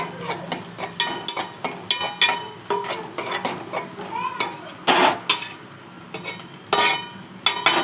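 Ginger paste and turmeric fry in a pan, heard as a busy mix of sizzle and sharp metal spoon scrapes and clinks against the pan in irregular bursts, fairly close and loud.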